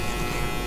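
Pop-up trimmer on an electric shaver running steadily, a close, continuous buzzing hum with no pauses and no voices.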